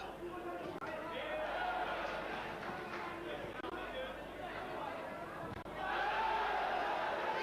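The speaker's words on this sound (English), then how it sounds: "every time he lands you can hear the crowd roaring" Crowd at a WBC Flyweight Championship boxing bout between Hussein of Australia and the Thai defending champion Lek, a steady loud roar of arena noise and chatter that swells again near the end.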